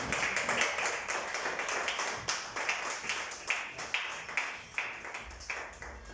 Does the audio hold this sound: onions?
no